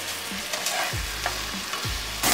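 Burger meat frying in a pan gives a steady close sizzle, broken by the scrape and knock of a spatula stirring and pressing the patties several times.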